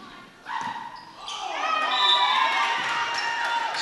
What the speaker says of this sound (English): This crowd is pumped.